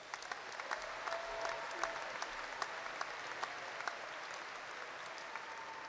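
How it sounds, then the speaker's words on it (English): Audience at the Angelo State University spring commencement in 2018 applauds the graduates, a sustained round of clapping with scattered sharper claps, fairly faint across the hall. "Please honor these graduates with a round of applause."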